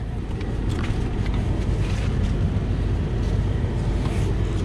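Inside a 2010 Nissan Armada, the air conditioning blows with a loud, steady broadband rush that stays constant throughout, with no talking over it.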